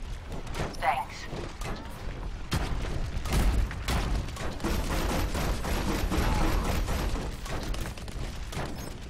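An Overwatch turret fires in rapid dense bursts with mechanical clanks and booms, loud and continuous under game noise, with voices talking over it.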